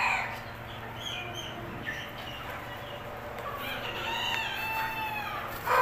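Indian-breed chickens cluck and a rooster crows over a steady farmyard background, with no talking.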